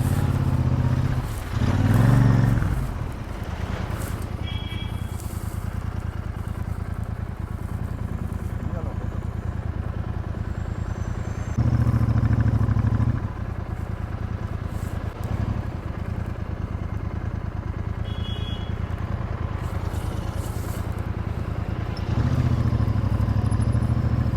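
A motorcycle engine droning steadily during a highway ride, a continuous low rumble with wind noise and a few louder swells as it passes other traffic, with someone talking over it.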